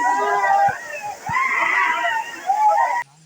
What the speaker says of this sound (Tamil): பாருங்க, சின்ன வாட்டர் ஃபால்ஸ் மாதிரி போகுது